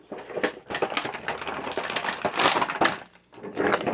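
Plastic packaging of a Masters of the Universe CGI Netflix action figure of Orko being torn and crinkled open, close and irregular crackling bursts with brief pauses, heard alone.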